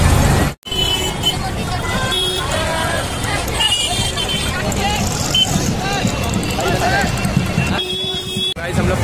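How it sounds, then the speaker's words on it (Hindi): Dense road traffic in the Ulhasnagar area, a steady wash of engines with brief horn toots and buzzy tones over crowd babble, close and continuous throughout. "आज बहुत ट्रैफिक है गाइस, देख सकते हो आप लोग, चारों तरफ से रोड भरा हुआ है, एकदम ट्रैफिक ही ट्रैफिक है।"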